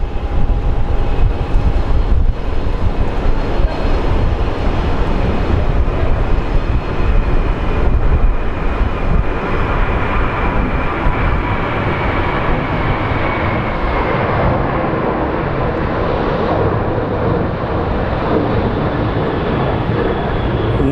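A Boeing 737 jet departs for Las Vegas from Sky Harbor International Airport, a loud, steady broadband engine roar that holds strong throughout, with a faint tonal whine slowly falling in pitch as the aircraft pulls away.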